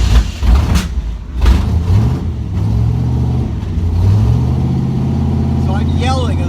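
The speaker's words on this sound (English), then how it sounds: "This is what the car sounds like when it dies" A 1966 Corvette engine idles roughly and unevenly, sputtering as it dies down, with people talking loudly over it.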